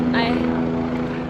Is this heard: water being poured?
no